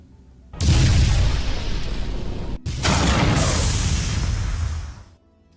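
An Ancient Gear Giant attack explosion in a Yu-Gi-Oh video game: a loud, roaring blast that rumbles for about two seconds, breaks off briefly, then surges again with a sustained crashing roar before cutting out. No voices.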